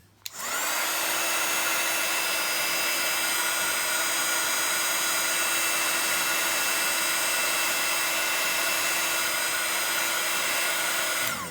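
A heat tool blows hot air over ink on a paper crafting project, switching on to a loud, steady whirring hum that holds unbroken for over ten seconds.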